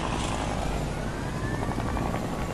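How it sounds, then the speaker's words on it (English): A helicopter in Fortnite runs with a steady, loud rotor and engine drone, continuous and close throughout, with no talk over it. "I want to see if this helicopter is in good condition."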